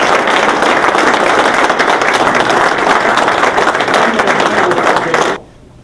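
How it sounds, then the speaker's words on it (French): Loud, sustained applause for Jerry at a Cameroonian community association anniversary launch in Canada, a packed crowd clapping steadily before cutting off abruptly near the end. "Je pense qu'on peut l'applaudir."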